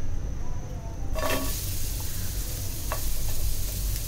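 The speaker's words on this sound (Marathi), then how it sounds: "लाल होईपर्यंत आपल्याला तो फ्राय करून घ्यायचा आहे." Two sliced onions frying in a hot pan give a steady, close sizzle and hiss that fills the clip, with a brief stirring scrape near the start and a few small crackles.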